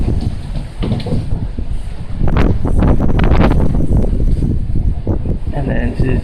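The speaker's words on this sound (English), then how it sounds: "It's kind of windy today." Wind blows across an outdoor yard, rumbling over the microphone throughout, while someone talks in the foreground and a boxer puppy plays fetch nearby.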